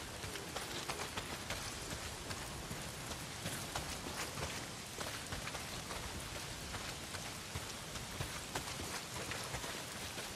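Heavy rain pours steadily in the Days Gone game, a dense, even hiss of drops spattering across surfaces with no pauses, moderately loud and continuous throughout with no voices.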